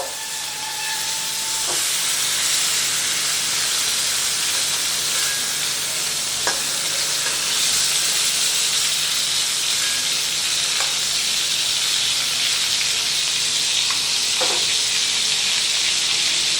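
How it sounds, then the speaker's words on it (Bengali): Prawns frying lightly in hot oil in a pan, a steady loud sizzle and hiss throughout with a few faint clinks of a utensil, no voices. "চিংড়ি মাছটা কিন্তু বেশি ভাজবো না, বেশি ভাজলে শক্ত হয়ে যায়।"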